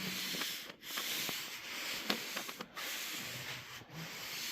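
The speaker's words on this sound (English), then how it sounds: "So I'm gonna sand this and see if I can get that out." Sanding body filler on a car panel to level a high spot: steady, close abrasive rubbing strokes with brief pauses and a hiss between passes.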